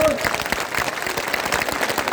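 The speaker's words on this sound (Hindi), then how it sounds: "और एक बार जोरदार तालियां वीर बहादुर उनकी टीम के लिए बजा दो" Crowd at an ex-servicemen rally bursting into loud, dense applause, a steady rattle of many hands clapping with voices mixed in.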